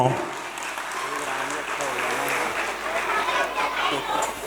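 Audience applause at a 2024-25 annual function, welcoming the Shri Krishna Leela act: a steady wash of clapping from a large crowd with chatter and music beneath it, holding even throughout.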